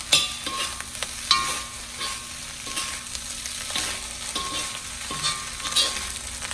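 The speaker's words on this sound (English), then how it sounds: "Give this a good stir. Still on high heat." Fried rice with Vietnamese pork sausage and Chinese sausage stirred over high heat in a pan, with steady sizzling and repeated scraping strokes of a utensil at an even rhythm, close and continuous, no voices.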